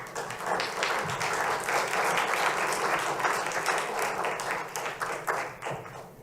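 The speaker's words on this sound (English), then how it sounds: "I love the applause." Applause from the audience at an evening Parks and Recreation Commission meeting, a steady moderate clatter of many hands heard from across the room that holds for several seconds and then tapers off slightly.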